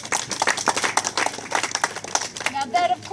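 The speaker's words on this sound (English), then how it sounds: "Give him a round of applause." Scattered clapping from a small audience at a Māori cultural venue in Rotorua, uneven hand claps mixed with voices talking close by, lively and fairly near.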